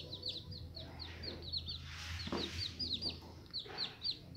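Newly hatched chicks peep in quick high chirps again and again while an adult chicken clucks low in the middle, all fairly faint and close in a quiet indoor brooding space.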